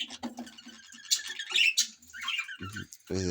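Short harsh squawks and chirps from a cockatiel in a nest box, close and irregular, with scratchy rustling between calls.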